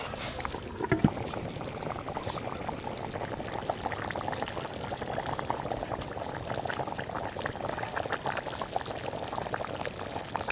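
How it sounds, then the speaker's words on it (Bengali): Duck curry boiling hard in a pot over high heat, a dense steady bubbling and hiss at moderate level, continuous with no talk. "এবার মাংসটা সেদ্ধ না হওয়া পর্যন্ত হাই হিটে জ্বালাতে থাকবো, আর ঝোলটাও টেনে যাবে।"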